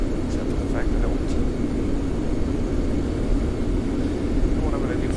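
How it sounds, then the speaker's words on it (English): Steady broadband roar of an Airbus A320 airliner in flight, heard from the cockpit: a continuous low engine and airflow drone throughout, with brief faint voice fragments over it. "we are flying an Airbus A320 this morning"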